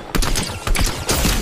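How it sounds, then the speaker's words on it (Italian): Rapid bursts of gunfire crackle loudly in quick succession, a dense fusillade of sharp shots in Fortnite. "Io quello gli sparo"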